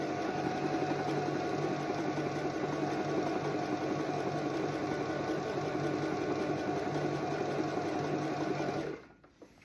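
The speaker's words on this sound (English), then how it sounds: "and then I'm just going to go ahead and sew." A domestic sewing machine runs a continuous seam at steady speed, a close, even whirring hum with rapid needle clatter that cuts off sharply near the end.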